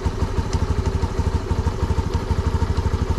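A Honda Navi motorcycle engine runs with a fast, even, thumping pulse, close and steady throughout with no talk.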